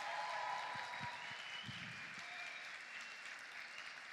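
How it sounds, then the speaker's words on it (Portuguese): A church congregation applauding, a broad continuous clapping wash at moderate distance, a few louder thumps early on, fading slightly toward the end, with no talk over it. "Vamos aplaudir mais forte pela vida de João."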